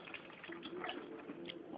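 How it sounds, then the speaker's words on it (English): Water splashing and trickling steadily, close by, like liquid being poured off into a sink, as wash water is drained from ackee, with no voices. "Drain this water off."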